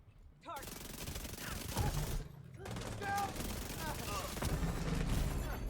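Rapid bursts of SMG fire in the shooter game The Division 2, sustained fast-cycling automatic fire with short pauses between strings, loud and dense, mixed with game effects.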